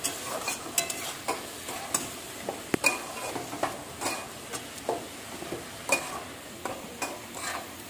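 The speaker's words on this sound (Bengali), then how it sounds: "তো চলো লাল শাকটা বসিয়ে দিই" Red amaranth greens being stirred and fried in a pan with fried lentil dumplings and crushed peanuts, a soft steady sizzle broken by regular scraping strokes of a spatula against the pan.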